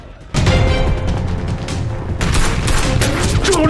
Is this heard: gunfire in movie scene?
yes